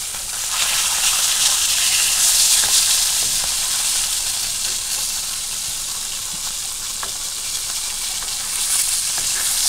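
Hilsa fish frying in its own oil in a village kitchen, a loud, dense, continuous sizzle with occasional crackles that barely changes over the whole span, no talking.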